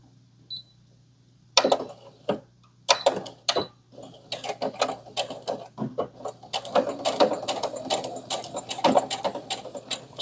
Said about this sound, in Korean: 지금 요 노루발 여기 딱 맞춰가지고 지금 박고 있습니다